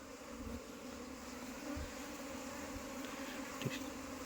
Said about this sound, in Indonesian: Lebah sedikit-sedikit akan masuk ke dalam kotak kita.